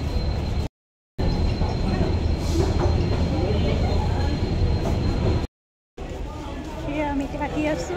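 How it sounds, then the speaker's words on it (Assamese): A train stands at a railway platform, its steady low rumble and station hubbub filling the scene, with people talking nearby and a couple of brief cuts. "ট্ৰেইনখন বোলে 2 নম্বৰ প্লেটফৰ্মত লাগি আছে"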